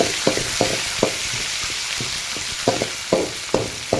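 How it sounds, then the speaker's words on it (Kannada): Chopped tomato frying in a pan for a cluster bean stir-fry, a constant close hiss of sizzling with regular scraping knocks from stirring every half second or so. "ಕಟ್ ಮಾಡಿ ಹಾಕಿ ಇದನ್ನು ಕೂಡ ಫ್ರೈ ಮಾಡ್ಕೊಳ್ಳಿ"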